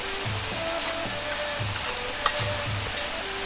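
Chopped meat being stirred together with onion and ginger for meat dumplings, soft repeated squishing strokes at a steady rhythm, close and fairly quiet, with no talk.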